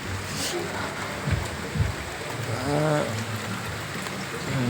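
Rain hisses down steadily, with a couple of soft thumps and a brief voice rising over the downpour midway.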